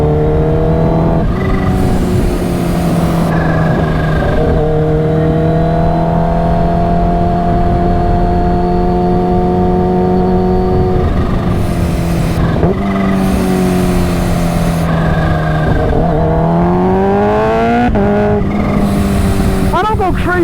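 A supercharged Kawasaki Ninja H2 motorcycle engine drones loud and close at steady high revs, pitch rising and falling through gear changes and throttle blips across the whole stretch, with wind buffeting and a voice talking over it.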